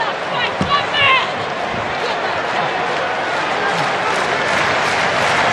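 Wrestling arena crowd at a WWE SmackDown match applauding steadily, a dense wash of clapping and crowd noise throughout, with a few sharper impacts near the start.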